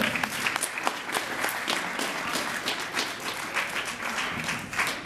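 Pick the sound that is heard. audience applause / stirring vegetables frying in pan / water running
audience applause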